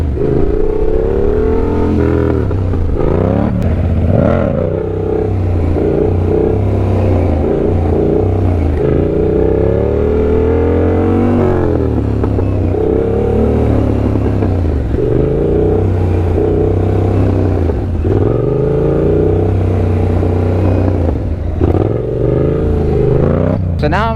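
A Yamaha FZ-09 motorcycle on stock gearing revving and running close by for slow wheelie practice, engine pitch rising and falling repeatedly, with a rider talking over it at times.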